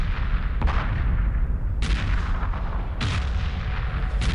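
Spaceships blowing up in the space strategy game Homeworld Remastered: heavy booming blasts land in a steady rhythm over a dense, rumbling battle din, loud and close, with a few sharp cracks standing out.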